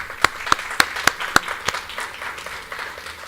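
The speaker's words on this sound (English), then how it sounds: "one big round of applause for him" At a Cuba infrastructure scholarship competition, an audience applauds a professor with a round of clapping, several sharp, close claps standing out at first over softer, spread-out applause that gradually fades.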